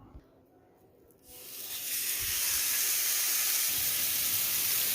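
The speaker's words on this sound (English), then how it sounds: "I'm just going to get some patties formed and get them in the pan and start cooking" Burger patties sizzle loudly in a pan, the hiss rising sharply after a quiet start and then holding steady and close, with no talking over it.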